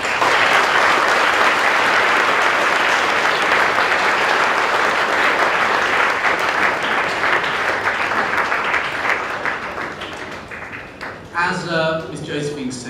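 Audience applause after a presentation at a presentation day event, sustained loud clapping from many people that gradually tapers, with a voice speaking over the tail end.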